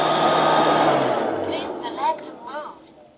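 A Liectroux B3000 robot vacuum cleaner hums steadily at close range, a broad motor whine that eases off over a few seconds, with faint brushing sounds and brief squeaks near the end.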